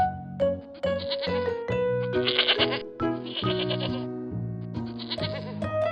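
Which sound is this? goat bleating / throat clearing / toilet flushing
goat bleating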